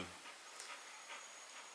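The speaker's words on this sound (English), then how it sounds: "He's my 15-year-old border collie." An elderly 15-year-old border collie pants softly in a quiet morning setting, a faint, steady run of breathy huffs repeating at an even rhythm with no talking.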